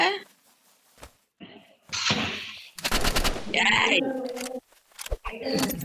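Gunfire in the video game Roblox Rivals: loud, rapid automatic bursts and single shots cluster in the middle of the clip, with a voice talking before and after the shooting.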